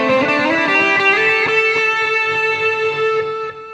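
An electric guitar played through an Orange amplifier with distortion rings out in sustained, saturated chords, loud and alone.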